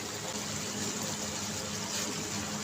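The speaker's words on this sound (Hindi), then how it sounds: "साथ ही हम पानी लगा देंगे" Water poured into a pot of Karachi-style biryani while cooking, a steady rushing pour that runs without pause through the whole short stretch, fairly close and even in loudness.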